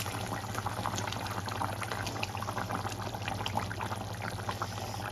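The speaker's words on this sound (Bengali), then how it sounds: "দেখো আমার ঝোলটা টকবক করে ফুটে গেছে" A pot of fish curry broth boils, with a soft continuous bubbling hiss and faint popping under a low steady hum, quiet and without voices.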